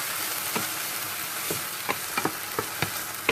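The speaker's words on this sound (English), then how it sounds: "And I'm going to stir it. And then really get in there and mix everything." Sauce being stirred into cauliflower fried rice in a hot pan, with a constant frying sizzle and a series of close spatula scrapes and taps growing more frequent toward the end.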